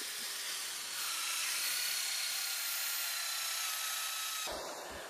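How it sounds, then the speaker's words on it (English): A diamond grit hole saw drilling into a floor for a door fitting gives a steady high whining grind, close and loud, cutting off near the end. "we're going to use a diamond grit hole saw"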